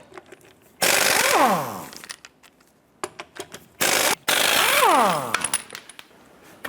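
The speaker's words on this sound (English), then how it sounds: "Using our 19mm socket, let's go ahead and remove our lug nuts." An impact wrench with a 19mm socket removes lug nuts from the front wheel of a 1993-1997 Ford Ranger in two loud rattling bursts, each falling in pitch, separated by quiet clicks and handling noises.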